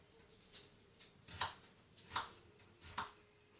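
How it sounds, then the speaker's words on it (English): A knife chops an onion on a board in several soft, evenly spaced cuts, faint and close, with quiet room hiss between the strokes. "So I sort of hold my onion together while I'm cutting it."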